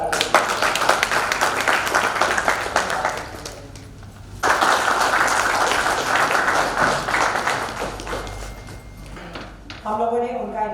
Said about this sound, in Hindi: इसके लिए एक बार और जोरदार ताली